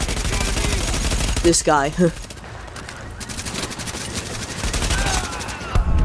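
Rapid, continuous gunfire in a video game rattles on throughout, with someone briefly speaking over it.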